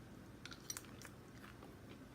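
Crispy food cooked in a Ninja Foodi crunches under a few close, quiet bites, with soft chewing between the sharper cracks and no talking.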